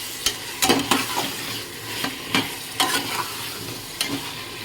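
Chicken stirred and fried in a spice masala, a constant sizzle broken by repeated close scraping strokes of a spoon against the pan, every second or so, with no talk.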